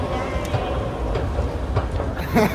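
A metro train in Athens rumbles and rattles steadily at moderate loudness under a busy, echoing station, with people talking nearby.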